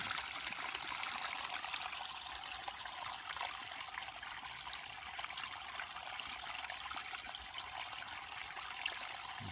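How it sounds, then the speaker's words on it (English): A flowing stream, a continuous soft hiss of running water that stays even and fairly faint throughout, with no voices. "you are this stream beneath you. Just imagine you are this water"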